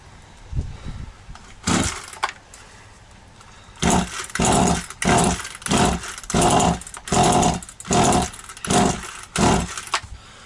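A one-handed 2500 petrol chainsaw runs unevenly. Its engine surges in a faint rise early on, then fires in a string of about seven loud, rough bursts with sharp drops between them, close by and with no talking.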